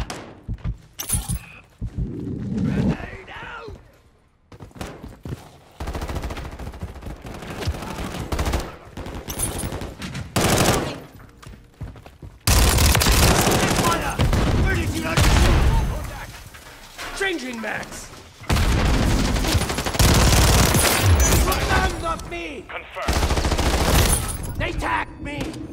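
Sustained automatic gunfire and explosions from Call of Duty multiplayer on the Rio and Estate maps, with loud, dense bursts that get heavier in the second half, under shouted in-game voice callouts.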